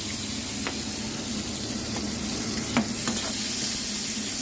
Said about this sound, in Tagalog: garlic, onion, susutin mo lang